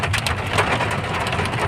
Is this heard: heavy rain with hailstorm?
yes